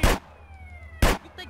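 Police siren from Grand Theft Auto San Andreas on PS4, heard as two loud bursts with a quieter tonal wail sweeping between them over a low engine-like rumble.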